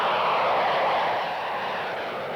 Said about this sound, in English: Jet after jet taking off.